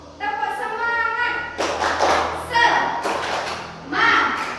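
First-grade pupils in an Islamic primary classroom chant a cheer, then break into a few quick bursts of clapping and thumping in time with the rhythm, close by, with their sung voices weaving between the claps.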